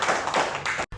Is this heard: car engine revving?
no